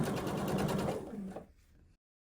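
A sewing machine stitches patchwork pieces along the edge at a quarter inch. A steady, close whirring runs for about a second and a half, then slows and stops.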